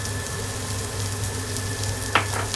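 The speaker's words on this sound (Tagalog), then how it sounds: "Haluin ko muna at baka masunaw" Chili powder is stirred in a sizzling frying pan, a steady close crackle of frying with a brief scrape of the utensil near the end and no talking.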